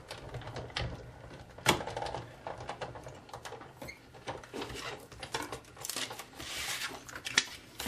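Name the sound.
cutting designer paper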